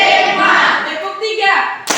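A class of senior high school students claps a rhythmic chant pattern in a classroom, with sharp hand claps rising briefly at the end. Voices chant over the claps.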